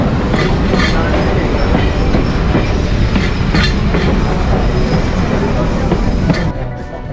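Heritage train at Railtown 1897 in Jamestown, California, rolls along steadily with loud, continuous rumble and rhythmic clickety-clack of wheels on rails, close by and filling the whole stretch, easing slightly at the very end.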